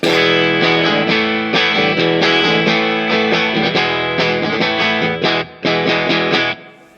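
Electric guitar chords on a Telecaster are strummed in a steady rhythm through a Fat RAT distortion pedal, thick and gritty, loud and continuous apart from one brief break near the end.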